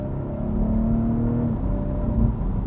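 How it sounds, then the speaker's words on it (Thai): BMW M340i xDrive LCI engine pulls under moderate throttle in comfort mode, a steady low drone with a rising harmonic whine that climbs smoothly, then dips and resumes, heard from inside the car without talk. "ตั้งแต่ สตาร์ทรถเนี่ย คุณจะได้ยินเสียงคำราม ของตัวเครื่องยนต์นะครับ"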